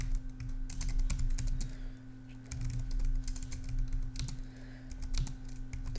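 Clicky typing of code on a computer keyboard in irregular bursts of keystrokes, close and moderately loud over a steady low electrical hum.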